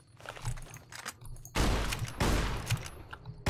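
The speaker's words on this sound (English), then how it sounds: "Yeah, let's use a shotgun." A shotgun in Fallout New Vegas goes off in two heavy, booming blasts about a second apart, each with a long rough tail, after a stretch of quieter game sounds and faint clicks.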